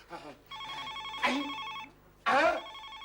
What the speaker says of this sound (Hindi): टेलीफोन की घंटी बज रही है।